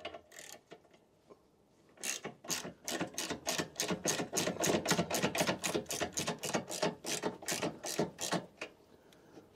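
Ratchet clicking rapidly and steadily as it turns a long-reach 10 mm deep socket on a nut during Jaguar air suspension repair work, close and distinct with a fast even rhythm.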